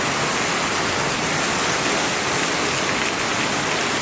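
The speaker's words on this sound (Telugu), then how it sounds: "ఎంత వర్షం వస్తుంది ఇప్పుడు" Heavy rain pours down on open farmland, a dense, steady roar of water striking the ground with no break or lull, loud and close throughout.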